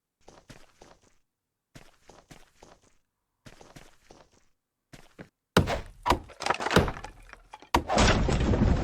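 Wood being chopped in the Trizna video game: short groups of dull thunking hits separated by pauses, then a denser burst of louder cracking impacts followed by a steady loud rushing noise.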